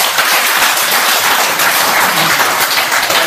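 A lecture audience claps together in a dense, loud, continuous burst of applause lasting a few seconds, with no speech over it.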